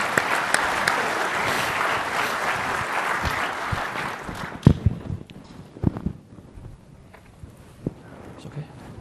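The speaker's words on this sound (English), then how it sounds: "Give him a round of applause." Conference audience applause at a Microsoft Ignite 2015 session, a dense crowd of clapping for about four seconds that fades into scattered claps and footsteps, with a few words spoken as it dies away.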